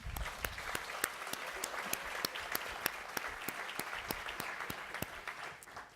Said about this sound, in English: Please join me in giving each of these nominated businesses a big round of applause.